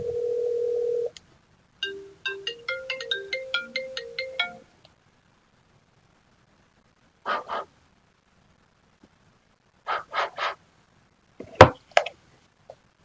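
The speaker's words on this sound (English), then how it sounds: "you'll be able to hear my cell phone ring on the software," A cell phone call comes through the GrandStream Wave softphone software: a short tone, then a fast run of electronic ringtone beeps, silence, and a few brief later bursts of sound.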